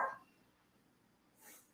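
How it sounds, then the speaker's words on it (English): A dog gives a couple of brief, quiet barks at the start and end, separated by near silence. "He'll bark at anybody who walks by."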